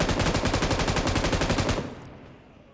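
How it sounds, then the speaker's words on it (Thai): Automatic gunfire in the video game PUBG Mobile: a loud, rapid burst of evenly spaced shots for almost two seconds, then cut off and fading into quiet. "ใครมันยิงอะไรข้างหลังวะ"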